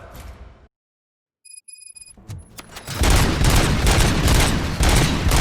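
Rapid gunfire in the video game RoboCop: Rogue City erupts after a moment of silence and faint electronic beeps, a loud, dense barrage of overlapping shots and booms that continues without letting up.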